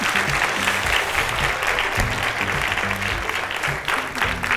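Audience clapping steadily at an Armenian talent show semifinal, a dense continuous round of applause filling the hall, with music or voices faintly underneath.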